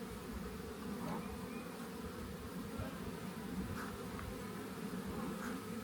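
Honey bees buzz steadily inside an open hive with old comb and brood frames, a dense, continuous droning hum close by, occasional individual bees passing nearer, no voices.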